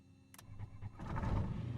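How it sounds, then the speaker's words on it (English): An airplane engine in Microsoft Flight Simulator starts up with a few clicks and a brief whir, then catches into a louder, steady rumbling run. "Start engine."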